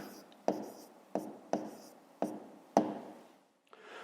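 A hand writes out a fifth-grade math answer on paper, with short scratchy pen strokes in separate taps and scribbles, close and quiet, under a low voice.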